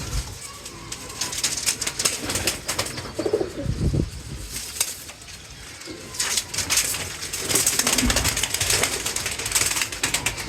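Pigeons in a loft setup coo and flap their wings nearby, with a brief flurry of wingbeats and soft cooing over a busy background hum; no talk.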